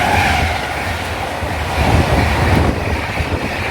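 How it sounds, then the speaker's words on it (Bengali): The Howrah to Guwahati Saraighat Express rushes past a station at speed, a loud, close roar of wheels and carriages with heavy wind buffeting the microphone. "সামনে আসছে one two three four five Howrah two Guwahati Saraighat express"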